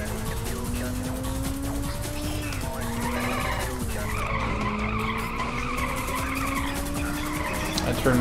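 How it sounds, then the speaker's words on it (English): Car tires skid and squeal in the Ridge Racer video game, with a steady engine drone and sliding screech that wanders in pitch as the car spins around, loud and continuous throughout. "That turned me all the way around and I'm still skidding."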